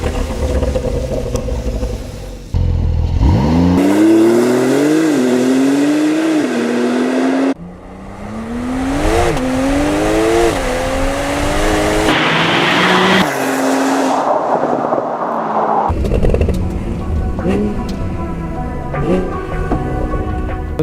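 A Porsche 911 992 Turbo S fitted with a Quicksilver stainless sport exhaust, heard close and loud as it revs and accelerates hard through several rising pulls, with brief breaks, tire noise and a deep, smooth engine roar.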